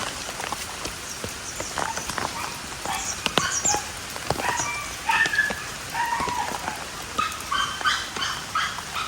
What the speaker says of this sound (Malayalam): മഴയുടെ ശബ്ദമൊക്കെ കേൾക്കാൻ പറ്റണ്ടോ